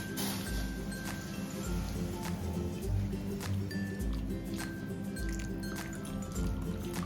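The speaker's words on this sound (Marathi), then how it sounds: "आता आपण याच्यात गरम पाणी टाकू, जे मी आधीच गरम करून ठेवलं होतं" Hot water pours steadily into roasted masala in a cooking pot, a continuous close liquid rush with a few faint drips.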